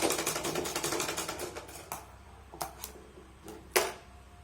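Sewing machine stitching the lining of a blouse runs in a fast, steady rattle for about two seconds, then stops, leaving a few sharp isolated clicks and knocks.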